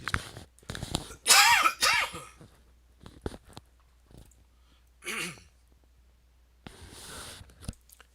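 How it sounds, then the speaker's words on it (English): A man coughs several times in a quiet room, with a sharp cluster of harsh coughs early on, then a lone shorter cough and a softer throat-clearing rasp near the end, separated by near silence. "I'm sorry, I had to cough there."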